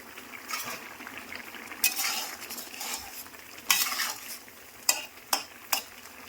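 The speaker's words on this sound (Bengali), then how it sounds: "একটা মাছ ভাজি করছি" Fish frying in a pan makes a soft, steady sizzle, broken by a few sharp scrapes and clinks of a utensil against the pan.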